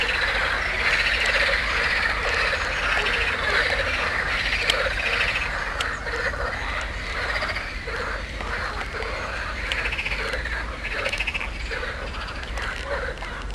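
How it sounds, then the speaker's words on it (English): A loud, dense chorus of frogs calls continuously in a park, mixed with chirping that sounds like insects or birds, and no one speaks. "I guess we woke up the frogs."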